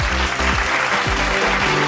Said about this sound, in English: Could you please join me in giving a round of applause to Ms.